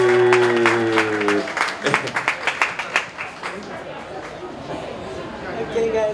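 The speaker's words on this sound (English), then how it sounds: "And Imkutazin, round of applause." After a voice speaks, a small audience at a 2019 film and TV industry talk event claps in a short burst of distinct, uneven claps that thin out into scattered chatter.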